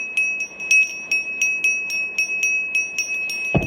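A bell, the bell of Atri, rings in a run of about a dozen evenly spaced bright strikes, each with a clear sustained tone, fairly loud and close, ending on a sudden low thump.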